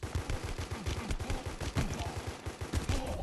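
Rapid bursts of gunfire from the mobile shooter Guns of Boom ring out in a dense, continuous stream of loud repeated shots over a busy game soundscape, with no talking.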